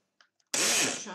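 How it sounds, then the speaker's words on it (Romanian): A kitchen blender switches on to blend egg membrane for a homemade face mask, with a couple of faint clicks followed by an abrupt, loud, sustained whirring burst. "pornim mixerul și blenduim."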